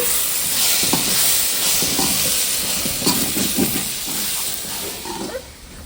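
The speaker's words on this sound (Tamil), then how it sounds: "இப்ப அந்த எண்ணெயிலே அந்த மிளகாத்தூள் வதங்கணும்" Chili powder sautéing in hot oil for a goat's head curry gravy, a loud steady hiss with occasional stirring clatter close by, without speech.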